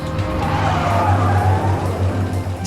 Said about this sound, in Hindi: जय, पूरे रोक रोक रोक रोक, गाड़ी रोक।